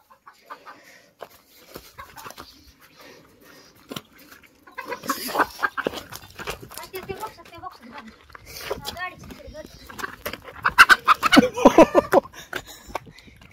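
Farmyard hens cluck and squawk close by while a person tries to catch one, with flurries of agitated clucking and scuffling growing louder toward the end, under frequent talk.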